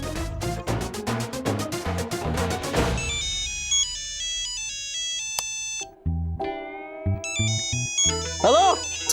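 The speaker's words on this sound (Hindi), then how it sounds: "अरे मेरा फोन बज रहा है" A mobile phone ringtone plays a bright, repeating electronic melody in a home, following a loud burst of music.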